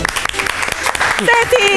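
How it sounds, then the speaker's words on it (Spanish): A science television show audience applauds as a paleontologist guest is welcomed, with short bursts of clapping mixed with voices and a few tonal sounds toward the end. "Le damos un fuerte aplauso a Ceci Apaldetti."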